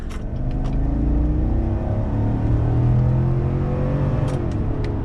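A 2019 Chevrolet Silverado High Country pickup with a 6.2L V8 pulls hard under heavy throttle, its engine note a steady, rising rumble heard from inside the cab, loud and continuous for a few seconds with no talking.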